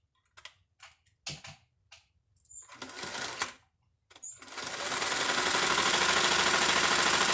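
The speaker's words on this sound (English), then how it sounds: "A very loud sewing machine, sorry about that." A loud sewing machine sewing a back stitch starts with a few short bursts, then runs steadily in a continuous whirring clatter that fills the rest of the clip.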